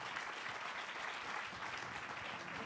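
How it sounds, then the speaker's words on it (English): Steady, fairly distant applause from an audience at a water supply and sanitation conference in Mauritius, continuous even clapping throughout with no letup. "Please give them a round of applause."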